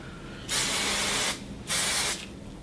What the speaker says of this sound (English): And then you spray it again.